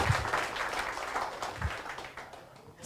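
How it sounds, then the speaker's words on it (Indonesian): Scattered audience applause after a health-product talk at an event in Cipanas, Bogor, moderately quiet and uneven, with a few sharper claps standing out over about three seconds. "Saya beri tepuk tangan untuk Bu Dokter Tena."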